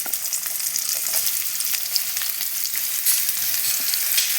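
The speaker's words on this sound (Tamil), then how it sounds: "வெங்காயம், பச்சை மிளகாயை போட்டு தாளிக்கலாம்." Onion and green chili frying in hot oil for a vegetable kurma, a loud, continuous crackling sizzle with occasional stirring, close up and without talk.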